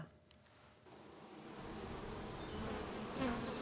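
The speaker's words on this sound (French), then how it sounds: "Plusieurs dizaines de milliers d'abeilles s'affairent autour de ce nouveau rucher." A dense, steady hum of tens of thousands of bees buzzing around a new apiary nearby, swelling gradually and continuing without pause.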